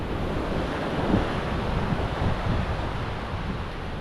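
Surf washes steadily onto a Tasmanian beach near a seaweed-strewn corner while wind rushes across the microphone, a dense, continuous roar with gentle swells and no voices.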